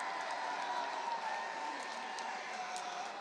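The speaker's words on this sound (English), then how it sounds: "And the Ole Miss fans finally with something to cheer about." Ole Miss baseball fans cheering in a stadium during a game against Auburn, a steady distant crowd roar with scattered whoops, holding level for several seconds.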